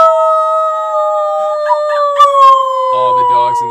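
People imitate wolf howls, voices sustaining long sliding howls together for several seconds, with brief chatter and laughter breaking in toward the end.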